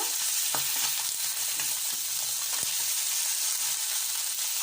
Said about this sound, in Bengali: মাছ ভাজাটা সবসময় জোরে জাল করে ভাজতে হয়